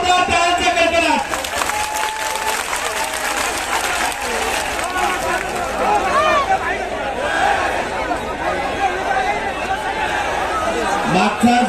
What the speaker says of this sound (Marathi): या महादिनाला जोरदार टाळ्यांचा कडकडाट